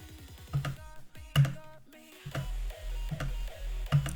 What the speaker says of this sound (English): You wanna hear a spacebar?